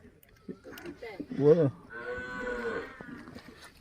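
Young calves over a year old mooing nearby, a few drawn-out calls with a loud one in the middle, while people talk quietly in the background.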